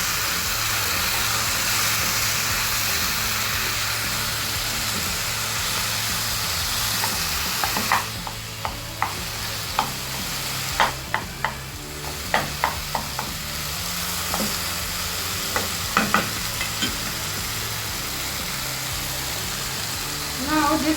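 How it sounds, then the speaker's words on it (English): Prawn kochu loti mixture fries in a pan with a steady broad sizzle while a utensil stirs, giving irregular clicking scrapes against the pan from the middle onward, close and continuous. "And again mix it well."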